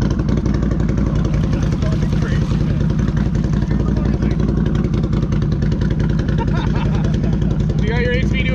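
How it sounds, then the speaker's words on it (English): An ATV riding a muddy trail holds a loud, constant engine drone with rough clattering texture throughout, and voices talk over it. "You got your ATV doing fucking pirouettes"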